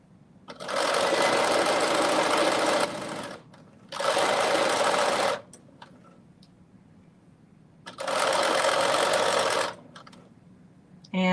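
A home sewing machine runs in three loud, close bursts of rapid stitching on a McCall's 7757 garment, with a short back stitch between runs and quiet pauses separating them.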